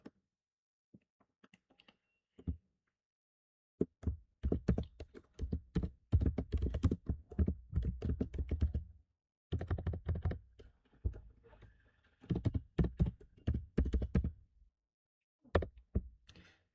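Computer keyboard typing while a sales form is filled in, with close, quiet clicking keystrokes in irregular bursts, separated by short pauses and a few isolated taps.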